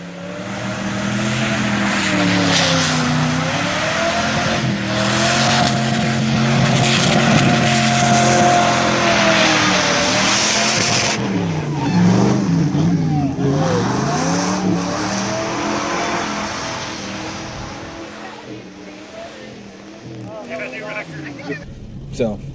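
A Jeep driven hard on a race track, with an engine revving and rising and falling in long sweeping waves as the Jeep accelerates and brakes through corners. A voice talks over it throughout, and the sound fades slightly toward the end.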